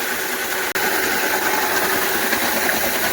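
Steady, loud electric motor drone from a homemade auger loader's 2.2 kW motor run through a frequency converter, with a dense rattling hum and one brief dropout, no voices.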